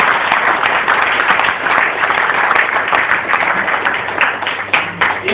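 An audience at an indoor business motivation event in Bangalore bursts into loud, sustained applause, with dense clapping that holds steady for several seconds.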